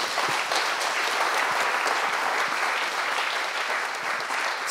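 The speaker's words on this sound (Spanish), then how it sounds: "Aplauso." A church congregation applauds, a steady, dense wash of clapping from many hands filling the space evenly throughout, without speech.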